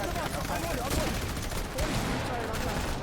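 Gunfire in a trio team match of a video game, dense rapid shots and bursts layered under game noise, fairly loud and continuous, with a voice talking in the mix.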